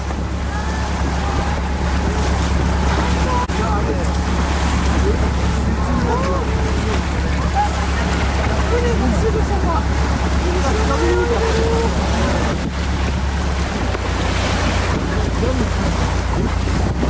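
Wind and waves around a boat at sea in the middle of a pod of dolphins: a steady, loud rush of water and wind buffeting throughout, with faint high whistle-like calls now and then and people talking over it.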